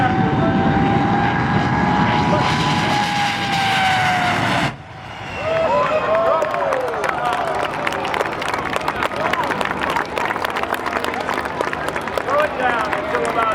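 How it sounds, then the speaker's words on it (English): A jet dragster at the Oshkosh EAA AirVenture airshow, its engine roaring loudly then cutting off abruptly midway, followed by a distant whine with crowd noise and voices beneath. "He's going to unleash that jet power."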